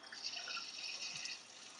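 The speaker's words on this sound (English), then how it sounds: "You should hear the toilet tank filling." A newly installed toilet tank fills with water, a faint, steady hiss of running water with a small drip-like plop partway through, heard alone.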